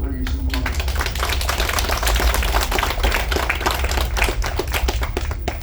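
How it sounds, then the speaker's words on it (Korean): Applause from a seated audience at a community association's general meeting aboard an MSC cruise ship, welcoming a visiting history professor. Dense, steady clapping runs throughout at an even level, with a brief voice near the start. "박수로 환영해 주시면 고맙습니다"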